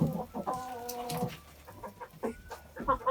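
Livny calico hens clucking and cackling nearby in short, uneven bursts, with a few sharper calls mixed in against faint background noise.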